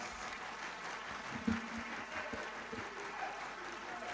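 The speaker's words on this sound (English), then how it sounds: "let me invite all of us in the National Assembly to applaud the remarks of the Right Honorable Speaker, Tajuddin Abb" Faint applause in the National Assembly chamber during a joint plenary session, steady distant clapping from a large room continuing throughout with a murmur of voices beneath.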